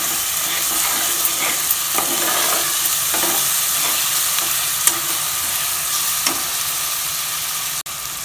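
Ginger garlic paste, green chillies and onion fry in a pan with a loud, even sizzle and occasional faint utensil taps, cooking for a chicken curry; no one talks.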